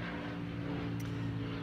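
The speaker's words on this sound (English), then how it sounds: "There's an airplane." An airplane passing overhead outdoors gives a low, steady engine rumble with humming harmonics, fairly faint and distant, continuous for the whole moment with no speech.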